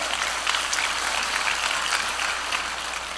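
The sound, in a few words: seminar audience applause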